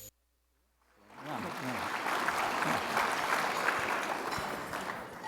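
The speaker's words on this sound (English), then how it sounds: "Won't you give these good folks a round of applause?" Audience applause at an awards ceremony: after a short bit of speech and a silent gap, clapping from a crowd swells and holds at a steady, dense level through the end.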